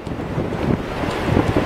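Strong wind gusts and rough surf roar steadily along the Lake Michigan shore at Ludington State Park, near where a river meets the lake, as a dense, continuous rush with no voices.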